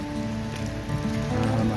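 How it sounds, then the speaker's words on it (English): Steady rain falls through a wood in February, a continuous close patter of drops on leaves and ground with no talking, holding an even level throughout. "February and it's raining"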